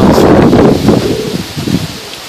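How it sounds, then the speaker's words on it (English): Strong autumn wind gusts loudly, rustling through leaves with a rough, blustery roar that eases off toward the end, captured close to the microphone with no talking. "Y'all can hear the wind wrestling."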